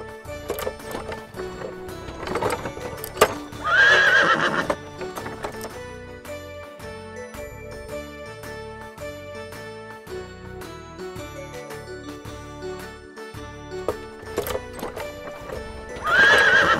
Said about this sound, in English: Horse cart.